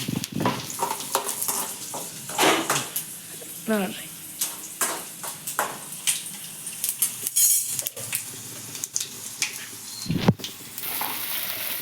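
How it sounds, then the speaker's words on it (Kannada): Cumin, mustard seeds and garlic tempering in hot oil for a legume and green pea curry, intermittent sizzling bursts and clinking of utensils against the pan, heard under frequent nearby talking. "ಈ ಕಡೆ ಕಾಳಿಗೆ ನಮ್ಮಕ್ಕ ಒಗ್ಗರಣೆ ಕೊಡಕ್ ಕುಂತಾರ ನೋಡ್ರಿ"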